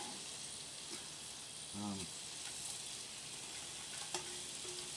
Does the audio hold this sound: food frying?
yes